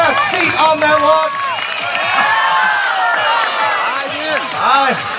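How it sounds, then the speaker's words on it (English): Spectators cheer and whoop at an outdoor log rolling competition on a lake, a lively crowd of shouts and high-pitched yells rising and falling continuously, with scattered voices and children's cries mixed in. "Cheer on your Lumberjacks, folks."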